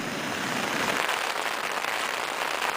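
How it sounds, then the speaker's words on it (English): Steady, dense hiss of rain pattering on a tent during a solo backpacking trip in the Canadian Rockies, continuous and even throughout with no voices. "You can hear the rain outside."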